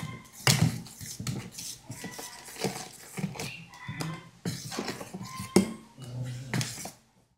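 Ground chilli and cumin being mixed into food with a utensil: irregular scraping and clinking strokes against a vessel, moderately close, in uneven bursts with short pauses, no talk.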